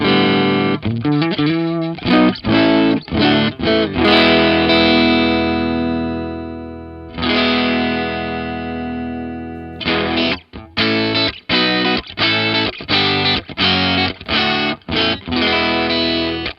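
An electric guitar plays through a Joyo American Sound pedal into an IR cabinet simulation, giving a loud, distorted amp tone. Long ringing chords alternate with fast, choppy staccato strums. No one talks over the playing.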